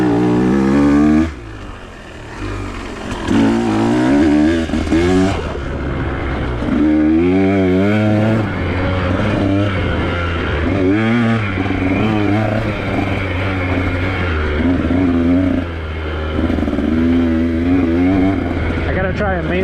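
A trail motorcycle's engine drones steadily while the rider works along a red dirt trail, rising and falling in repeated revs as the throttle changes, with a voice talking over it.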